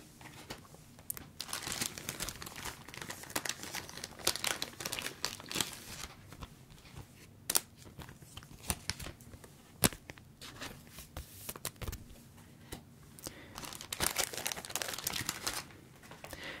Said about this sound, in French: c'est tellement plaisant d'ouvrir des boosters en mode ASMR